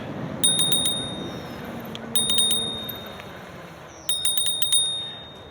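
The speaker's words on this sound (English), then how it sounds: "Let's hit the bell here." Three quick bursts of a Rad Rover e-bike's bell ringing, each a rapid series of bright dings, spaced evenly apart over outdoor background noise.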